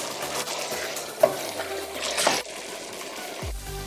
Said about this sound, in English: add the kidney beans and cook for 4 to 5 minutes. Keep stirring on medium heat